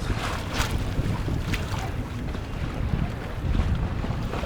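Strong wind buffets the microphone aboard a felucca sailboat out in the middle of the Nile at Aswan, a loud continuous roar with rushing gusts and faint water wash beneath, no talking.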